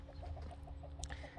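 Cheonggye chickens cluck in a farm coop, a series of short soft clucks repeating at a fairly even pace, faint and fairly close, with no talk over them.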